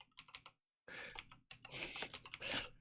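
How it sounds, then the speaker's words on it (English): Rapid bursts of typing on a computer keyboard, crisp clustered key clicks in quick irregular runs separated by a short pause, close and fairly quiet with no talking. "The typing is intensifying."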